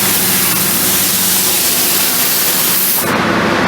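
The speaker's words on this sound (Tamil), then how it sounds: "உங்களுக்கு ஹியூமிடிட்டி டவுன் ஆகிடுச்சு அப்படின்னா உங்களுக்கு வந்து நாசில் ஸ்ப்ரே பண்ணுது." The humidity nozzle of a new-model egg hatching incubator sprays a loud, dense hiss that runs steadily for about three seconds and then cuts off abruptly.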